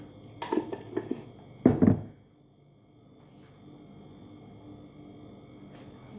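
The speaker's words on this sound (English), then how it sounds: "Give it a nice little stir." Spoon scraping and clinking against a pot of Jamaican-style rice and peas, two short bursts of stirring near the start followed by a quiet simmering background.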